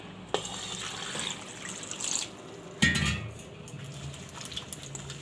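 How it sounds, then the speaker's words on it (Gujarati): Carrots being rinsed in water in a home kitchen, with a few splashing, sloshing bursts of water and light clinks over a steady background. "હવે આપણે આને 2 પાણીએ ધોઈ લઈશું"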